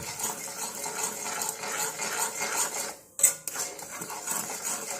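A metal spoon scrapes and clinks against a bowl while stirring a homemade hair-dye mixture of ground roasted black cumin and water. The soft, steady scraping stops briefly, then resumes with a sharp knock.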